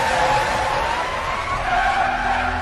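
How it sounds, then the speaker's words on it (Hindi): A vehicle brakes hard and skids to a stop, giving a loud, sustained tire screech that lasts the whole short stretch. "दलबीर ने गाड़ी रोकी"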